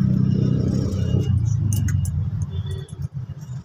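Road traffic on a route through Batangas toward Turbina, with a close, heavy engine rumble and a vehicle passing that fades out, followed by light jangling and clinks, with no talk.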